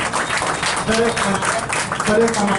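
Audience at a formal event applauds to welcome a guest; steady clapping runs throughout the short stretch with a voice talking over it.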